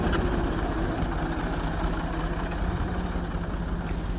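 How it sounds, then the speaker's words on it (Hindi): A tractor engine chugs steadily at low speed as it moves through a muddy harvested rice field, a continuous close throbbing drone with no talk. "इकबाल भाई ट्रैक्टर लेके आगे की तरफ जा रहे हैं"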